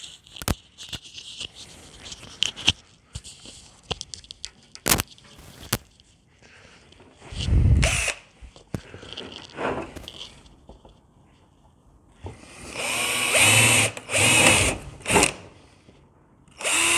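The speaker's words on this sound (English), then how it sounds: "That's that drilled off." Bursts of a power drill whirring and biting into a piece of old sterling board, stopping and starting several times, with a louder sustained run near the end.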